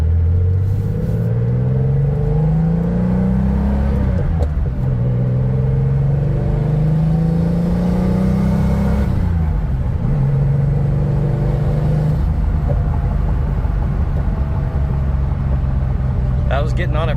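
A 1986 Porsche 911 Turbo engine pulling hard through the gears, revs climbing steadily, dropping at each shift, then rising again, heard from inside the car as a loud, continuous rumble.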